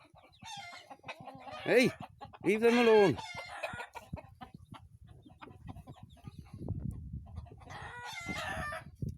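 A cockerel crows twice in quick succession, loud and close, with softer clucking and farmyard shuffling afterwards; someone speaks briefly near the end.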